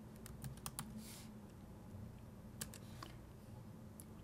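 Quiet typing on a computer keyboard, a scattering of light key clicks in short irregular clusters over a low steady room hum, close but faint, no talking.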